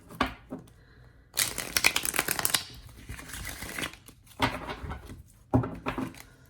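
A linen-cardstock Game of Thrones tarot deck being shuffled and bridged by hand: three loud, crisp bursts of riffling card noise separated by short pauses, close to the microphone with no talking.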